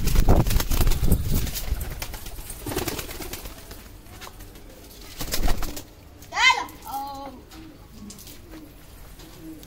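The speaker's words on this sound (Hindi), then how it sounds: "कबूतर नीचे आ गए।" Pigeons coo in soft, rolling bursts near the end, after handling noise and a person's low speech earlier; the calls sit close and stand alone.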